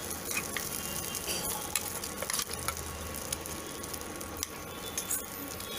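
Boiled, coarsely blended val beans fry in hot oil in a pan with a steady close sizzle, broken by scattered clinks and scrapes of stirring.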